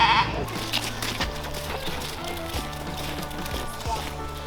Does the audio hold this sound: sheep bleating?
yes